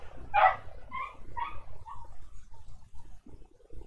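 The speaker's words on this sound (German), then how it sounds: "weil mein Hund bellt mal." A dog gives a few short, excited barks, one louder yap followed by softer ones, fairly close, over a low background rumble.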